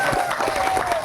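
An audience at an Islamic religious gathering for Isra' Mi'raj at a boarding school claps in a brief burst of dense, close applause with some crowd noise.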